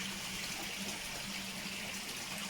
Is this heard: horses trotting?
no